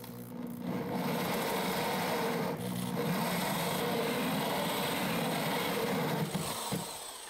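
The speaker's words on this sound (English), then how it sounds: "allow the little the drill bit in the middle to start burrowing a hole that keeps it rock solid" A drill bit bores steadily into a bathroom vanity, a continuous grinding whir that runs at even, close-up loudness for several seconds before easing off near the end.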